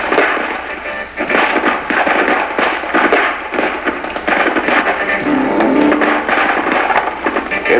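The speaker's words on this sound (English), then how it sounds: "At the same time, Team Bravo and 2nd Squad opened fire on the enemy." Rifle gunfire rattles through a battle scene in a vintage US Army training film, as a rifle squad on dismounted movement and a second squad open fire on the enemy: dense, continuous volleys of loud shots with no pause.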